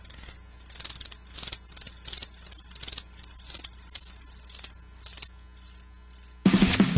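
Loud crickets chirp in steady, rapid bursts that thin out toward the end, until a sudden harsh broadband noise cuts in and takes over.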